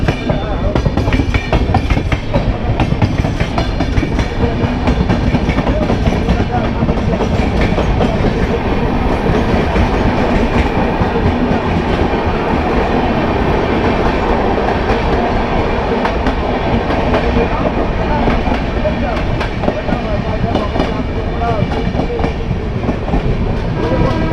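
A passenger train, the Tebhaga Express between Balurghat and Kolkata, rolls steadily along the tracks, loud and close, with continuous rumbling and rhythmic clatter of wheels for the whole stretch.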